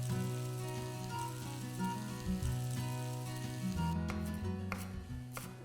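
Spiny gourd (kantola) pieces stir-frying in a hot pan give a steady close sizzle with soft crackles throughout, and no voices are present.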